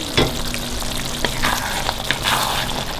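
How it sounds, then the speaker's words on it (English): Garam masala and methi fry in a pan for chicken handi while being stirred, with a steady close sizzle broken by several light scraping stirs and no voices. "And now give it a stir."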